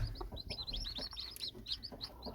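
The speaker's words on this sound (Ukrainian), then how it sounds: "от перше поповнення курчат" Many small chicks peep in rapid, high-pitched chirps, overlapping and close by, with low rustling and faint clucks underneath.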